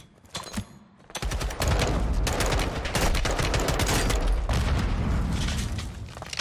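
Sustained automatic gunfire and explosions in the video game Call of Duty Modern Warfare 2, with loud rapid bursts after a brief quieter opening and dense booming shots continuing throughout.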